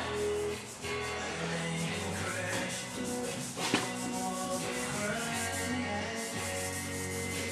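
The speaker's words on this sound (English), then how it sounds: "Just doing a little sanding and buffing on this roof here." Continuous abrasive rubbing of sanding and buffing on a painted car roof, steady and close, with a whirring machine hum underneath.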